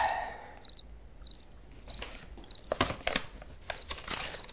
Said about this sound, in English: Here's your crickets.